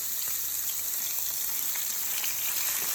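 Chicken legs and wings with the skin on fry in a pan, giving a steady, dense sizzle and crackle that runs unbroken and fairly loud throughout.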